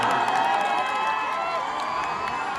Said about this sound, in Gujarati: તાળીઓના ગડગડાટથી વધાવશું આપણે